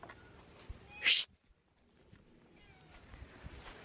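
A neighbour's cat gives one short, loud, close meow, with faint background noise before and after it.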